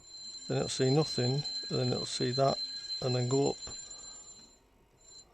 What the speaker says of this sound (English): that's my alarm to tell me I need to do something